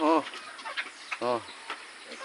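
A native chicken hen clucks while feeding, two clear short calls close by with soft scratching and pecking noises between them.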